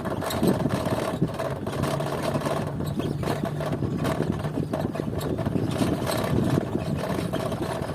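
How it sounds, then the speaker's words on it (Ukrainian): A FADA IDEA electric bicycle rides along a dirt field road at about 20 km/h, giving a steady, continuous motor whine and rolling rumble with wind noise throughout. "Електровелосипед тягне, як ви бачите."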